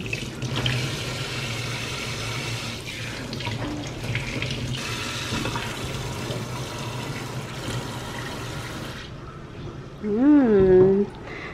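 Water runs steadily from a faucet into a new kitchen sink, a continuous close splashing rush that stops near the end, followed by a brief vocal sound.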